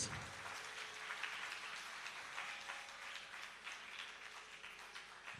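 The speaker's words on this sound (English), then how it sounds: "Give her a huge round of applause." An audience at a Bharatanatyam Arangetram dance recital claps, a dense, steady patter of many hands from start to finish, heard at a moderate distance without voices.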